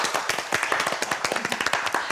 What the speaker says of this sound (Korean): 박수 한번 치는 분위기